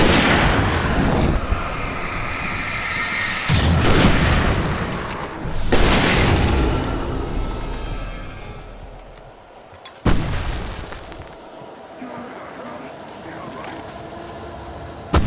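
Fireworks going off at a concert stage in the video game Alan Wake, heavy booming blasts at intervals with broad crackling decay between them, loud and close, with some voices under the bursts.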